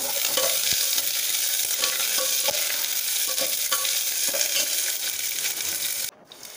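Crushed garlic, curry leaves and onion fry in a pan for a Kannada-style jeera curd saaru, with a steady bright sizzle and repeated stirring scrapes throughout, ending abruptly with a brief quieter moment.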